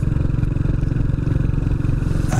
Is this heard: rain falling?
no